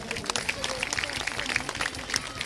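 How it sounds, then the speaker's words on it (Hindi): Applause from a crowd filling a large pandal tent at a Bhagwat katha gathering in Noida, a dense, steady patter of many hands running through the whole moment, fairly distant, with voices mixed in. "सभी लोग उनके लिए जोरदार ताली बजाएं।"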